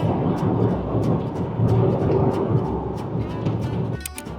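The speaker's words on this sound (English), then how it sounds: "It's raining already." Heavy rain and rolling thunder during a car road trip from Warsaw to Berlin, a dense, steady roar filling the cabin throughout, with a few sharper cracks near the end and no talk.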